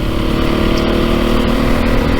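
A 2022 Beta 430 RR-S dirt bike's internal combustion engine runs steadily while being ridden, a loud, even drone with a low throbbing rumble and no talk.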